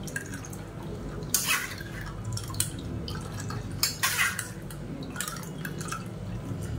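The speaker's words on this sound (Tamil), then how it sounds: "நல்லா கொஞ்சம் தண்ணி விட்டு நல்லா எல்லா ஜூஸையும் பிழிஞ்சு எடுத்துக்கலாம்." Drumstick pulp for rasam squeezed by hand with a little water in a kitchen, giving soft wet drips and squelches in irregular bursts, close and fairly quiet, with no talking.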